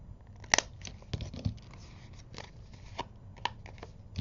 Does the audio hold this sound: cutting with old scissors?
yes